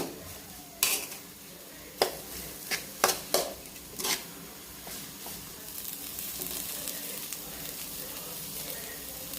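Boiled potatoes are stirred into a sizzling masala in a pan for aloo paratha stuffing: several sharp spoon clanks against the pan early on, then a steady, soft sizzle and scraping alone.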